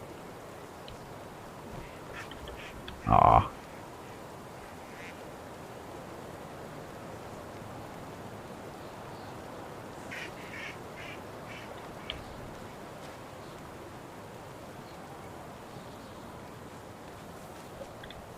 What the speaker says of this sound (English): There's a duck in the water.